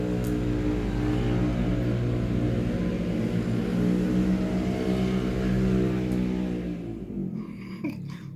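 Motorcycle engines rev loudly and steadily on a city street, a continuous deep rumble with harmonic growl that holds for several seconds before fading away.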